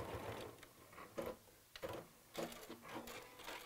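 A sewing machine runs at a slow, steady pace, stitching seams in short bursts with mechanical whirring and clicks, close up and moderately loud, with brief pauses between runs.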